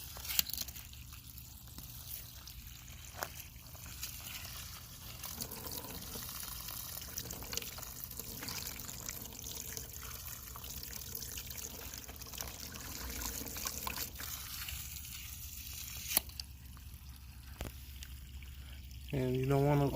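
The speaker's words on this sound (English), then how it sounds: "I'm gonna go ahead and start adding the water now." Water is poured into an outdoor reptile enclosure as a soft, quiet trickle and splash, continuing faintly over low background noise.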